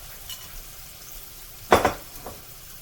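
Green tomato bites fry quietly in a pan with a soft, low sizzle, broken once by a brief clatter of a utensil or pan.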